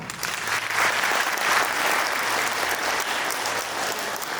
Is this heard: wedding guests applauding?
yes